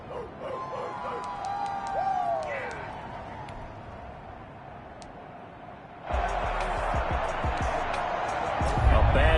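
Stadium crowd noise from a Madden football game: a murmuring crowd bed that swells into a loud, sustained roar for the last few seconds, with a few sharp tonal calls early on.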